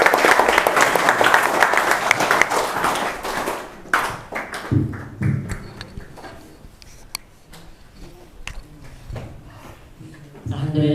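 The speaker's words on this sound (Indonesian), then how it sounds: "Beri tepuk tangan." An audience at a school Qur'an presentation claps in a dense burst of applause that thins out into scattered claps after a few seconds.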